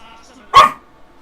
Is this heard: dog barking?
yes